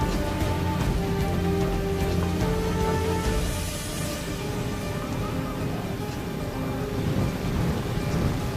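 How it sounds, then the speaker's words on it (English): Steady rain and rolling thunder from a battle in the Rome: Total War strategy game fill the whole stretch as a dense, continuous roar, loud and unbroken, with no voices. "Hope they're not scared of thunder"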